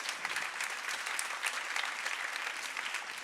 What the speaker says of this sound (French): Et vous pouvez l'applaudir très fort.